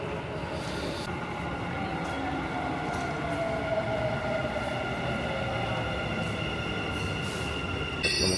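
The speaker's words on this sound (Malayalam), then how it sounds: "ഒറ്റ ട്രെയിൻ വരുന്നുണ്ട്, എന്തായാലും ഇതിനകത്ത് കയറി പോകാം." Metro train arriving at a station platform, with a sustained rumble and a rising, drawn-out wheel squeal, steady and fairly loud with a brief clunk near the end and no talking.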